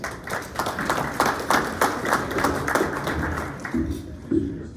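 A morning community event audience in Corona gives a round of applause, scattered distinct claps at moderate level, with a few low tones or murmurs near the end.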